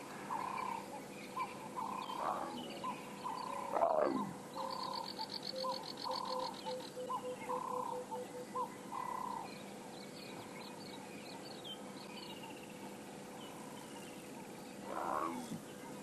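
A female leopard gives a few low, rasping contact calls for her cubs, spaced far apart over a quiet night backdrop of steady frog and insect chirring.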